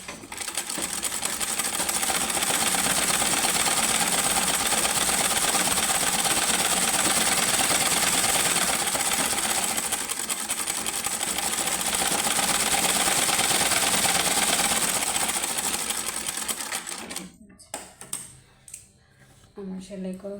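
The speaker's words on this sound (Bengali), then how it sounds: "গলাটা আমি সুন্দর করে বসিয়ে সেলাই করে নিচ্ছি।" A sewing machine runs fast and steadily, stitching around the neckline of a skirt-and-fatua garment, its rapid mechanical whirr loud and close for many seconds before it stops and a few light handling clicks follow.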